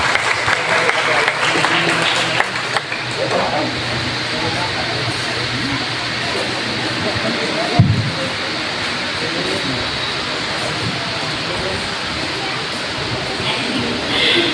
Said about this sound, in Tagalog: Palakpak mo isuon.